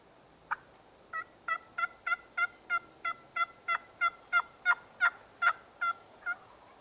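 A wild turkey gobbles in Tennessee hunting country, a fast rhythmic series of about fourteen loud, rattling notes, close and clear with no talk over it.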